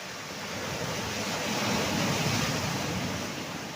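Strong sea surf roars close by, a loud steady broadband rush of breaking waves that swells slightly in the middle, with wind buffeting the microphone and no voices.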